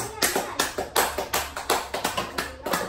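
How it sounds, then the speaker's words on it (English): An audience claps in a brisk, steady patter of hand claps for about three seconds, loud and close, with no talk over it. "No clapping for Mr. Rodriguez?"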